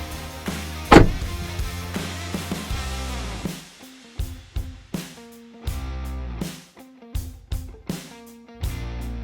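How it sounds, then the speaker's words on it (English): Rock Slide Engineering power steps on a 2026 Jeep Gladiator Rubicon deploy and retract, giving a string of short motorized whirs and firm clunks that repeat in an uneven rhythm, close and fairly loud. "Rock slide engineering power steps deploy for effortless entry and retract for heavy-duty"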